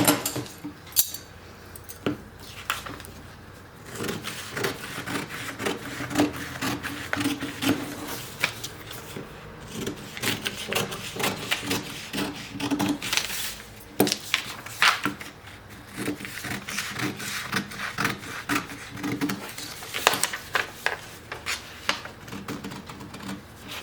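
Blouse back fabric being cut with scissors for a sweetheart-neckline bustier blouse, a faint string of small snips and metallic clicks with soft handling rustle, close and quiet, alone without talk.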